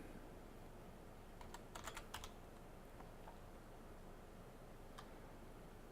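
Keys on a computer keyboard tapped in a short burst of quick clicks, then a single later keystroke, close and fairly quiet over a steady background hiss.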